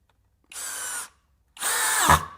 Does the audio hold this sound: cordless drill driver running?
yes